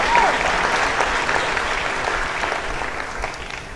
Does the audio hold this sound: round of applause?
yes